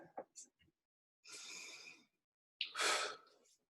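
Two deep breaths taken during an exercise routine, each a slow audible inhale-exhale rush, close and quiet, preceded by a few brief breathy sounds.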